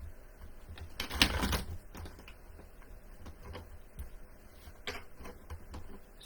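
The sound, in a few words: shuffling a deck of tarot cards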